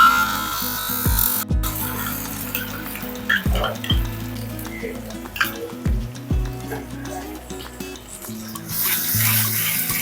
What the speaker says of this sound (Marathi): फोडणीमध्ये वाटण हे छान असं परतून घेऊया.